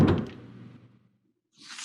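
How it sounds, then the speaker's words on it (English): A door opening with a single close thud and rattle at the start that quickly fades into silence, followed by a faint hiss near the end. "And she opened the door."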